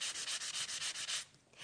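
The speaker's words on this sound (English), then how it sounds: "So let's give this a nice sanding." Hand sanding on a small wooden craft frame, a steady rhythmic back-and-forth scraping with about ten even strokes, close and fairly loud, tapering off at the end with no talking.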